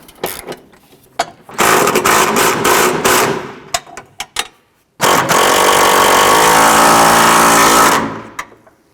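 A ratchet tightens the engine mount bolts on a 2009-2015 Honda Pilot, close and loud, with several short clicking bursts followed by two long continuous runs of rapid ratcheting.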